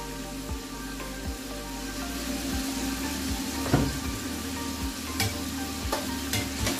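Small batch of seafood deep-frying for fritto misto in oil around 160°C, giving a steady close sizzling hiss with bubbling crackle and occasional sharper pops, heard alone.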